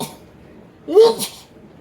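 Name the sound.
sneeze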